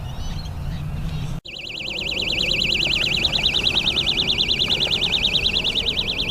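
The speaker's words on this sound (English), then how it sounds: "bite alarm certainly let everybody know there was a fish there" An electronic fishing bite alarm at a reservoir switches on suddenly and holds a loud, continuous warbling electronic tone over faint wind and background noise.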